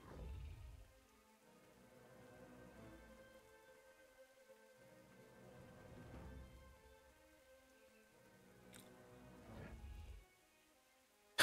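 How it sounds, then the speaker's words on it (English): Rain falls in World of Warcraft outside a dungeon near Zul'Gurub, a faint, steady hiss that swells a little in a few soft waves and carries a low rumbling undertone. "Oh, wait. It's raining."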